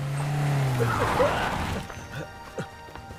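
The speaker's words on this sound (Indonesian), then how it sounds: "tiba-tiba ada mobil yang mengarah pada Pak Pandian" A car suddenly swerves toward an old man carrying tomatoes and carrots in a film scene: a loud rushing engine and a crash-like jolt, then quieter scattered thuds of dropped items, mixed with score.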